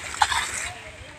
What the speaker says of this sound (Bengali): দেখছেন দুই দিনে মামু ভাইগনা মিল্লা পানি কিনি কিভাবে তারা সুন্দরভাবে পানিগুলা হেঁচছে